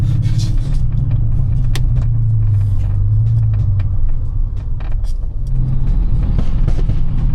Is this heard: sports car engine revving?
yes